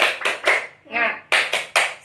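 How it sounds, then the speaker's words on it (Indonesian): A classroom of fourth-grade pupils performs the rhythmic "tepuk semangat" clap: loud bursts of several crisp claps in a patterned beat, with a brief pause of voices shouting together in the middle. "Tepuk semangat."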